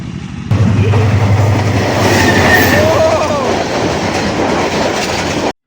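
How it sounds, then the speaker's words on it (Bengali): Train running along a railway near Raban, Narsingdi, Bangladesh, heard close and loud with steady rumbling and rhythmic clickety-clack of wagons, plus a brief faint wheel squeal, continuing unbroken before cutting off abruptly. "ট্রেন আসার আগ মুহূর্তে ওই যে সামনে কিন্তু ট্রেন আসতেছে"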